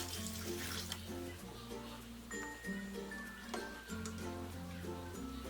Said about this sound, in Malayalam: 6 കപ്പ് വെള്ളം, അത് ഇതിലേക്ക് ഒഴിച്ചു കൊടുക്കും